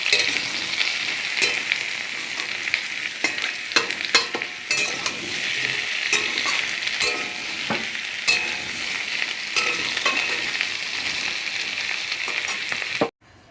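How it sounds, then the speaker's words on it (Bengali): Onion and elephant foot yam with potato frying in hot oil, a steady bright sizzle with occasional stirring clatters, close and continuous until it cuts off abruptly at the end. "কিছুটা ওল আলু ভেজেছি হালকা, একটু পেঁয়াজ দিচ্ছি, কোচানো পেঁয়াজ, এটা দিয়েও ভাজবো"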